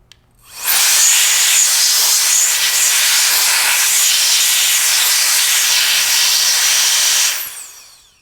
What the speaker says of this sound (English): And then we can take compressed air, and I actually have this air tool here.